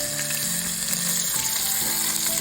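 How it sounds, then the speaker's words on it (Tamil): Crushed shallots fry for a fish curry in a pan, giving a loud, dense, continuous sizzle that stays steady throughout. "லைட்டாக சவந்தவும் வெங்காயம் சின்ன வெங்காயம் இடித்து வச்ச சின்ன வெங்காயம்"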